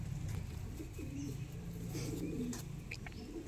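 Kasuri Kalsira pigeons at a breeder's home, cocks and hens, cooing in low murmuring bursts over steady background noise, with faint chirps mixed in.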